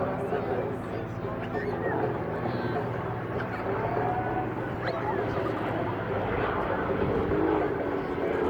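Aerobatic display jets at the Southport Air Show, a sustained distant engine roar over crowd noise, with a commentator talking over it.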